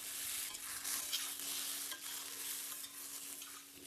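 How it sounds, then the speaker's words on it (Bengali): Bay leaf and whole garam masala sizzle steadily in hot ghee for Bengali basanti pulao, a bright continuous crackle with occasional stirring scrapes, close and alone. "ভালো করে মাখা হয়ে গেলে পাতা ফোড়নে দিয়ে দিলাম, আর একটু গোটা গরম মশলা ফোড়নে দিয়ে দিলাম"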